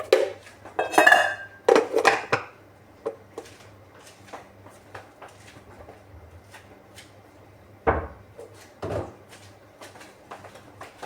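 Marinated chicken wings are mixed by hand in a bowl, giving a few loud clattering, scraping knocks at the start and later isolated clinks and thumps, close by, with quiet gaps between.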